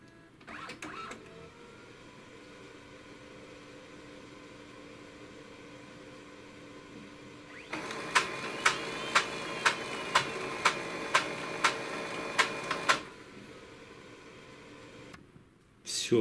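A Brother DCP-7030R laser multifunction printer powers on with a click, hums steadily, then whirs through a run of evenly spaced mechanical ticks before settling, ending with another click.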